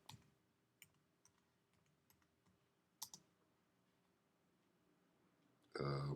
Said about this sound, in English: Now let's type this in.